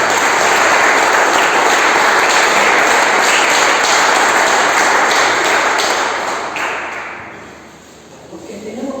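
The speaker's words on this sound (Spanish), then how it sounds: "Fuerte el aplauso al que vive." A church congregation breaks into loud, sustained applause during worship, dense clapping filling most of the stretch before tapering off near the end as a voice begins.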